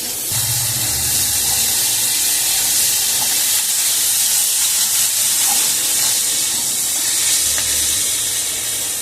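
Potatoes, onions and chili frying in a pan for a pumpkin-leaf dish, giving a steady, close hiss and sizzle that runs unbroken throughout with no talking.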